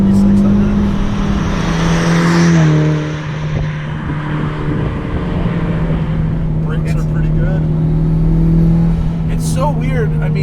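A modified 2001 Mitsubishi Evolution VII engine drones steadily while driving, its loud, constant tone rising slightly as it revs, with people talking over it throughout.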